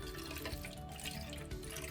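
Water poured from a drinking glass into a container for homemade bubble mixture, a steady close splashing and trickling pour that runs the full length without any talk.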